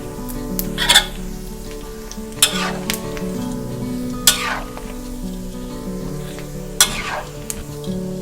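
Garlic-pepper pork belly sizzles and fries steadily in oil over high heat, with a few sharp scraping stirs of a utensil against the pan breaking through the continuous crackle.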